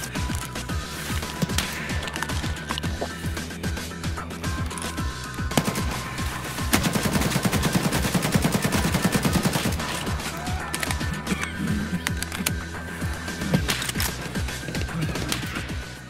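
Gunfire from a sniper scav in Escape from Tarkov, sharp cracks repeating at irregular intervals over a steady in-game background drone.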